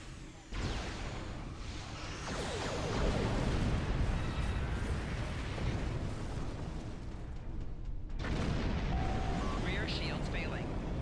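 Starship weapons firing in Star Trek Online during a Romulan Republic mission, with heavy booming blasts and rumbling explosions rolling continuously, loud and close, pausing briefly before resuming, while someone talks over the battle.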